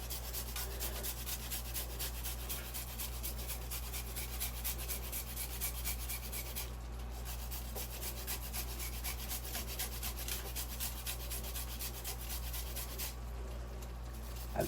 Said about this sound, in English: So now I'm going to grate a piece of this ginger